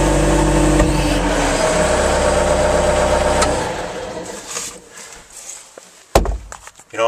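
A 2001 Bobcat 863G large-frame skid steer with a 73 hp diesel runs with a loud, steady low rumble close by, then drops to a quieter, uneven idle broken by clanks and a sharp knock.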